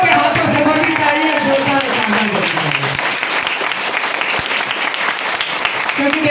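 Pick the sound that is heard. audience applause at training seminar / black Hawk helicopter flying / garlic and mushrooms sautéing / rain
audience applause at training seminar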